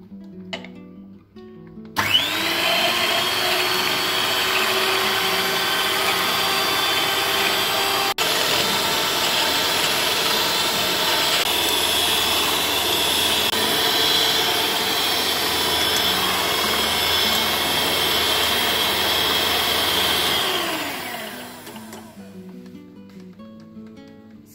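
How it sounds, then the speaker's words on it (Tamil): An electric mixer beats eggs and sugar at high speed for a chocolate sponge cake, a loud, close, steady whine that runs unbroken for about eighteen seconds before winding down to a stop. "இப்போ இந்த எக்ஸை நம்ம ஹை ஸ்பீடில் ஒரு 7 minutes வரைக்கும் இதை இப்போ பீட் பண்ணிக்கலாம்."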